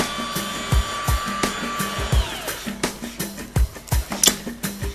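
A rotary polisher buffs fibreglass with Dulon polish at around 1800 to 2000 RPM, giving a close, steady motor whine broken by repeated thumps and scuffs as the pad works the surface.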